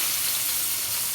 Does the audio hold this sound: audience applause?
no